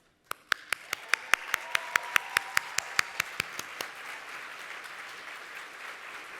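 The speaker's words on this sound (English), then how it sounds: "we'd like to give you a round of applause." Conference audience applause: sharp separate claps start it, then build into a steady wash of clapping from the room that continues softly after the individual claps stop.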